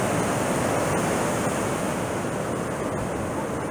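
Ocean surf washes in at Cherry Grove Pier in North Myrtle Beach, a dense, continuous rushing hiss of breaking waves, loud and unbroken throughout.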